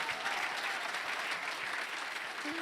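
A church congregation claps in a dense, steady burst of applause filling the space throughout, with a brief tone near the end.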